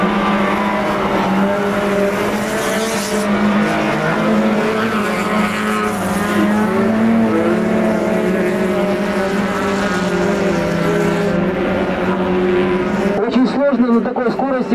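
Sports cars race and slide around a frozen ice track at a Russian winter auto show, engines droning loudly and continuously with shifting revs, with a commentator talking over them.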